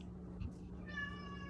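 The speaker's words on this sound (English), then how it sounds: "For those with the meowing, that is my darling cat in the background" A pet cat meows somewhere in the room, one drawn-out, tonal cry rising above a steady low hum and faint background noise.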